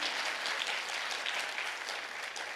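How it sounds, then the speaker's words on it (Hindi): A church congregation clapping for Jesus, a dense, steady wash of applause from many hands, loud and sustained throughout with no talking. "जोरदार ताली बजाइए यीशु के लिए"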